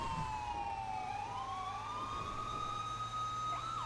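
Police car siren in a GTA roleplay game, sweeping in a continuous wail with steady rising and falling pitch, loud and alone over a low engine rumble, with a short yelp shift near the end.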